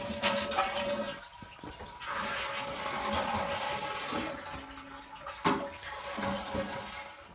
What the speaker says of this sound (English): you want to flush the toilet because you want to get all the water from out of the tank